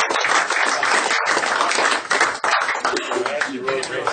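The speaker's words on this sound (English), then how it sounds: "please let's give a big round of applause for Pat Oates, everybody." A comedy club audience applauds a comedian, dense steady clapping with cheers throughout, loud and close, with voices mixed in.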